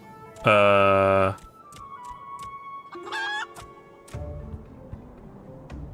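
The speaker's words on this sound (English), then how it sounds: "Oh, it's a chicken." A chicken in the video game Final Fantasy XIV lets out a loud drawn-out squawk, followed by a few shorter clucks and fluttery calls, with quieter game sounds between them.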